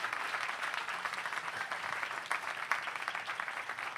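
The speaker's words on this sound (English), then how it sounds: "Give her another round of applause." An audience at a monologue event applauds in a dense, steady wash of clapping that holds at moderate loudness throughout.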